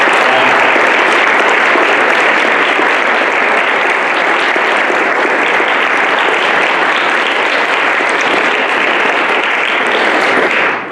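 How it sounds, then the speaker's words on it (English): Loud, dense applause from an audience saluting a group of speakers at a talk event, continuous and even for about eleven seconds before cutting off abruptly. "can we give one last round of applause to those 5 amazing speakers?"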